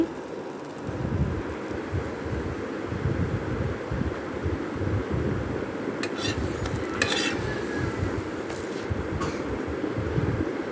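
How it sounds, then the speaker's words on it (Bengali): Parathas fry in a pan with a steady, loud sizzle that fills the whole stretch, broken around the middle by a few sharp clinks of a utensil against the pan. "এক এক করে আমি সব কটা পরোটাকেই ভেজে নিচ্ছি"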